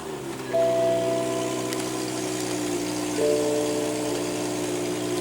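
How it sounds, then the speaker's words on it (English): A 2016 BMW 640i Gran Coupe's 3-liter inline twin-turbo six-cylinder idles with a steady, low hum, fairly quiet and even, with no talking over it. "what you're hearing there is a 3-liter inline twin turbo 6-cylinder"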